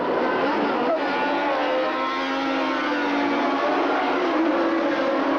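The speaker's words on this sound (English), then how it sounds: "Ferraris are away. Look at them, dicing, slipping through, looking for positions as the race gets underway." Formula 1 cars roar away at the start of the 1979 US Grand Prix, a steady wall of engine noise with rising tones, no voices heard.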